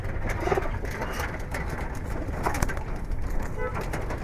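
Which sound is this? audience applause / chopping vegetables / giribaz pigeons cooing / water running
giribaz pigeons cooing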